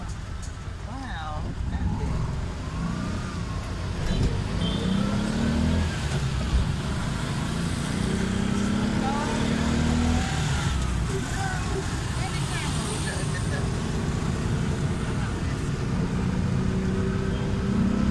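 Continuous street traffic in Dar es Salaam with engines droning and motorbikes passing, while people talk over the steady roar.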